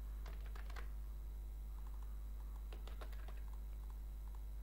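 Keys clatter on a computer keyboard as a value is typed into a C# Windows Forms application, in two short bursts of quick, close taps over a steady low hum.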